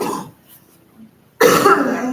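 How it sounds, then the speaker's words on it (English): A yoga and strength class participant coughs, with one short burst near the start, a quiet pause, then a louder, longer cough close by. "And cough."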